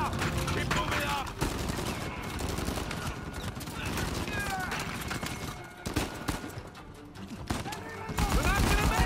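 Rapid bursts of gunfire and scattered shots in a video game shootout in Uncharted 4, fairly loud and continuous, mixed with game effects and urgent voices talking over the action.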